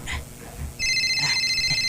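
Cellphone ringing with a steady electronic ringtone of repeating bright pulsing tones that cut in sharply after a few muffled thumps and carry on loud and close.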